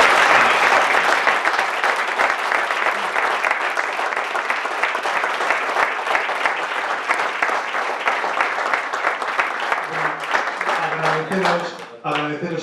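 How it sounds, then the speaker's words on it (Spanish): Audience applause fills a debate hall on sustainable human development, a dense steady clapping that runs loud for about ten seconds before thinning out as a voice begins speaking near the end. "Yo pediría un aplauso para el Dakari."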